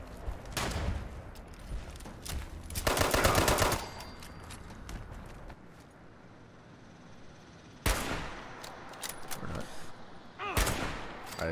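Gunfire in Fallout 76 as a creature is shot, with a loud sustained burst of rapid shots and further bursts later, while voices talk at intervals.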